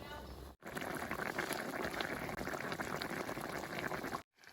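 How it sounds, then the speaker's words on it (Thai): A pot of water with fish cooking in it at a steady boil, a close, continuous bubbling and seething that runs for several seconds and stops abruptly at both ends. "แล้วเราก็จะตั้งทิ้งไว้รอให้น้ำเดือดจนปลาสุกนะยายเนาะ"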